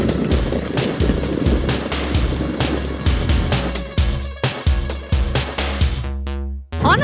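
A custom Harley Sportster motorcycle being ridden at speed, its engine a loud, continuous roar with rhythmic pulses and rushing wind noise, dropping out briefly near the end before surging back.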